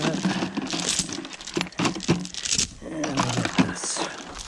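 Metal chains rattle and clink as they are handled close by, in uneven jangling bursts. Low rumbling noise and faint voices sit underneath.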